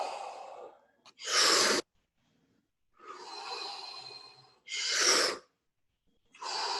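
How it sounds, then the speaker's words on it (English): A person breathes slowly and deeply, with audible inhales and longer, strong exhales alternating in a calm rhythm with short pauses, close and clear. "just listen to his breathing"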